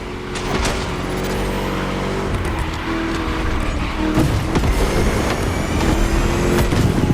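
A Mustang muscle car races in The Crew Motorfest, engine roaring continuously with rising revs, gear shifts and brief tire squeals, loud and close throughout with no talk.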